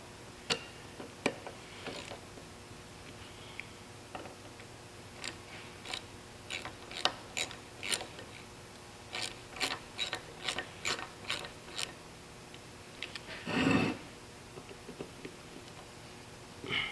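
A ratchet tightens bolts on a Horton fan clutch from a Kenworth T800, close rapid clicking bursts in several runs with short pauses and a brief heavier clunk near the end.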